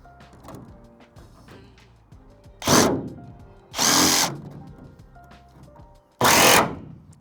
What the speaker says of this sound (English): That's jigsaw.